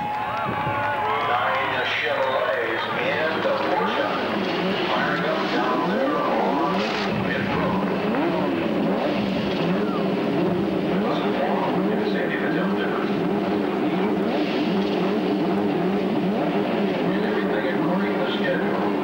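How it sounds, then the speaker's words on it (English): CART race car engines rev and roar together at Nazareth Speedway at the start of the 1990 Marlboro Challenge. Blaring, pitch-swooping engine sound runs continuously under crowd noise and a public-address announcer. "Gentlemen, start your engines!"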